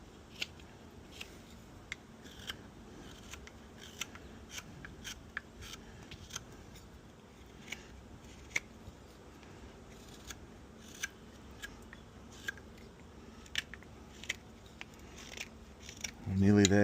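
A knife carving the bowl of a camphor laurel wooden spoon, cutting across the grain, makes a string of short, sharp scraping clicks at an uneven pace, close and fairly quiet, with a louder thump at the end.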